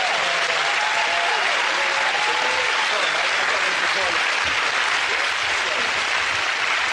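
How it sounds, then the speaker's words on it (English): A TV studio audience on the panel show Mock The Week breaks into sustained, loud applause, a dense clapping roar that holds steady for seconds while a voice speaks briefly over it near the start. "give that round of applause"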